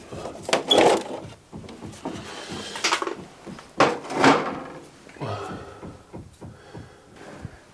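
A garage door in a 25-year-old 1990s house is pulled down, giving a series of close wooden clunks and knocks with a short scraping slide near the end, loud in bursts with quiet gaps between.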